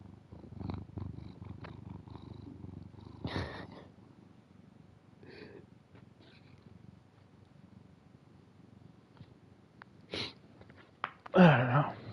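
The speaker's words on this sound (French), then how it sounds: "Il ronronne si fort." A cat purrs loudly and close to the microphone, a continuous low rumble interrupted by a few sharp breathy bursts, with a loud snort or sneeze near the end.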